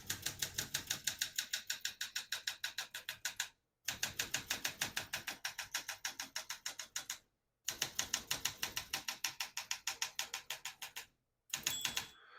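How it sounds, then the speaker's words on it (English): Rapid typing on a 1967 Olympia SM9 vintage portable typewriter: dense, even runs of sharp key strikes in bursts of several seconds, separated by brief pauses where the carriage returns, with a faint bell tone near the end. "Once you hear the bell, you're near the end of the margin."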